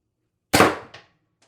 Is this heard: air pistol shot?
yes